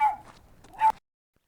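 A small protective dog gives two short, sharp barks by a road during a hike at Lakeside Linkage Preserve in Lakeside, California, fairly close and loud, then quiet.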